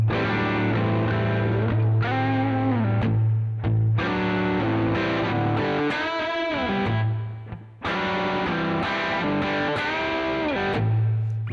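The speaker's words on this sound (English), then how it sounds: "listen to how your guitar sounds with the distortion, also with attacking soft or hard." Electric guitar through heavy distortion plays a minor blues riff, sustained bent notes and chords ringing loud and alone over a held low drone, with short pauses between phrases.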